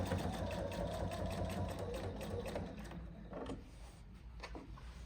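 A sewing machine stitching the pocket of a tote bag, a close, continuous whirring hum with mechanical needle clatter, easing slightly toward the end.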